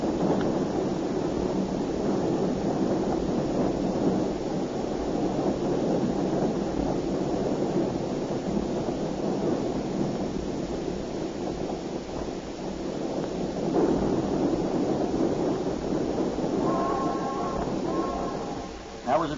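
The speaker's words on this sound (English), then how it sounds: "That was a train. Passing by." A train passing by, played as a sound effect on a vintage radio comedy show: a steady, dense rumble lasting nearly twenty seconds that swells slightly in the middle, heard through narrow, lo-fi broadcast sound.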